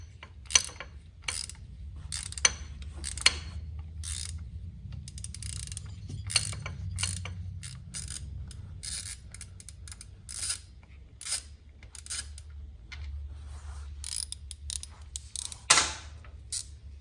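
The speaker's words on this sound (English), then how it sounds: "Let me grab a 1/4-inch drive ratchet." A quarter-inch drive ratchet clicks in quick bursts of ratcheting while bolts on a 1980s Harley Ultra Classic gearbox case are loosened. The sound is close, with short pauses between runs of clicks and no speech.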